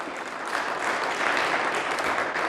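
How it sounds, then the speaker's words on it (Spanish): A church congregation claps loudly for Jesus Christ during a Catholic sermon, a dense, steady wash of many hands with no voices over it. "Dale fuerte las palmas a nuestro Señor Jesucristo."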